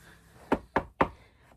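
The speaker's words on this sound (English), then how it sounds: "Knock on wood." Three crisp knocks on a wooden surface, evenly spaced about a quarter second apart, close and clear with no talking.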